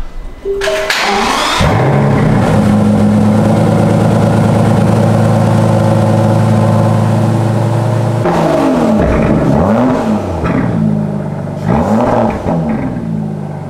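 An Aston Martin DBS's quad-pipe exhaust idles with a deep, loud burble, then revs up and down sharply several times close by.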